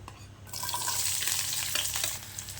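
Small chopped shallots hit hot sesame oil in a pan and burst into a bright, crackling sizzle up close, with a few stirring scrapes as they fry.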